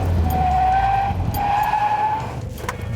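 A car fitted with eight tires brakes hard, its tires skidding and squealing in a long continuous screech over engine noise, close by.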